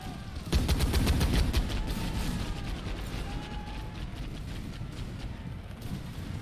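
A burst of rifle fire in the Khartum and Zulu mod strategy game, with British troops shooting at Mahdist warriors: sharp, rapid cracks early on, then a rumbling, crackling battle din that fades back.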